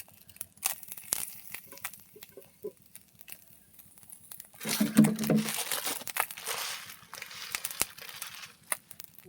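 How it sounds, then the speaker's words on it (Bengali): Bay leaves go into hot oil left from frying small fish. Light crackles and rustles come first, then a sudden loud sizzle bursts out midway and settles into a softer, steady fizzing spatter. "মাছের তেলে আমি তেজপাতা দিয়ে দেবো।"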